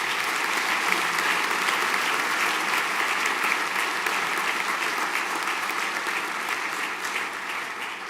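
At a senior school prizegiving, a hall full of people applauds, a thick, continuous patter of clapping that holds steady and loud before tapering off slightly at the end.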